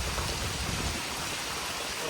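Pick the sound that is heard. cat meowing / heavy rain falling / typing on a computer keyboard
heavy rain falling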